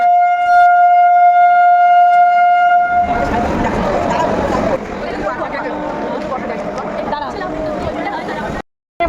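A loud, steady train horn blares for about three seconds at a railway station, followed by the rumbling clatter of an arriving train passing close by.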